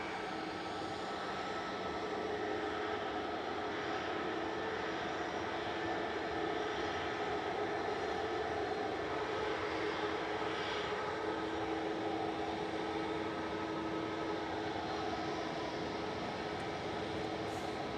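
An EasyJet Airbus A320neo jet at Manchester Airport gives off a steady, fairly distant engine roar with sustained whining tones, continuous and without talk.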